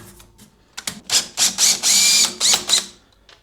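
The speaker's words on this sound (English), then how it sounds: "Just go ahead and pull all these silver screws out." Silver screws being backed out of the casing of a Primeweld 225x welder by a power driver, a run of short close whirring and ratcheting bursts with brief pauses between them.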